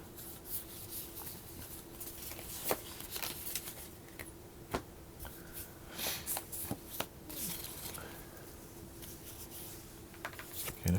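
Playing cards shuffled and handled at a tabletop session of the board game Planted, a soft run of rubbing, riffling and tapping with a few sharper snaps, close by under faint background voices.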